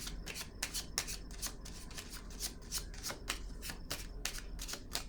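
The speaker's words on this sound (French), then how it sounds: "Je vais piger une autre carte." Tarot cards are shuffled by hand in quick, repeated riffling bursts, a rapid series of crisp flicks and slides heard close up and fairly quiet, with no speech over it.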